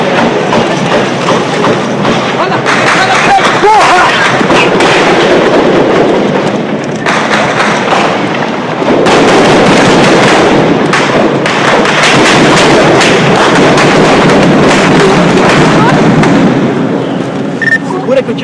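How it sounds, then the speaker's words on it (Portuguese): Gunfire during a shootout in a Rio de Janeiro street, sharp cracks and thuds scattered through dense, loud, chaotic noise with voices shouting and talking throughout. "Segura que o tiro tá comendo, segura."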